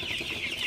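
Chickens on a Sonali chicken farm cluck in a continuous, fairly close chorus of short overlapping calls, with no talking.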